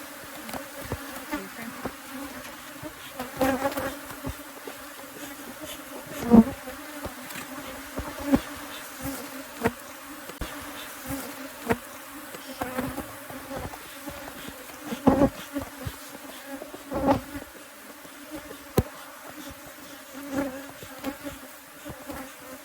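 Honeybees swarm around an open hive during a hive split after canola bloom, a dense continuous buzzing with individual bees passing close to the microphone now and then.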